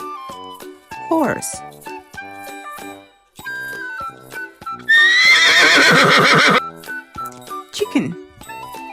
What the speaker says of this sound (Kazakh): Horse. A horse.